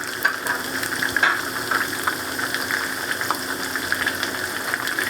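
Garlic, ginger and tomatoes fry in a pan for a masala chicken with capsicum curry, a steady moderate sizzle with scattered crackles and faint scraping throughout, no voices.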